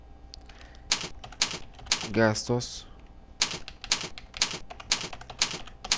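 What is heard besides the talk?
typing on a computer keyboard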